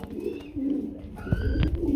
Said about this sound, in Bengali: এক জোড়া শৌখিন কবুতর আইসে গো ভাই